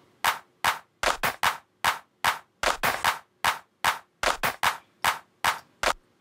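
A second clap sample in a layered drum-kit clap, played as a steady run of sharp, snappy hits with slight variations in spacing and intensity, loud and dry with no voices.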